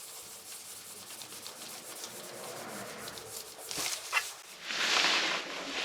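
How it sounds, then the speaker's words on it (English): Sandpaper rubbing over a wooden urn close by, a steady soft scratchy hiss that grows louder and harsher in brief strokes toward the end. "Let's sand and seal it."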